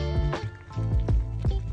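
Water drained off blanched asparagus in a pan, a series of close gurgling glugs and sloshes in uneven bursts, liquid splashing and squishing as it pours out.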